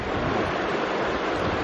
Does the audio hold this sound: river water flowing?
yes